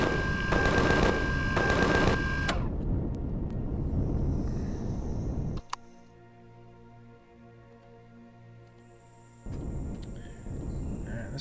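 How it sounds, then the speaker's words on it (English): Gunfire aimed at a spider in the survival game Empyrion, with rapid bursts of shots at the start followed by quieter game ambience, a sharp click and a low hum. "No, I'm shooting at a spider."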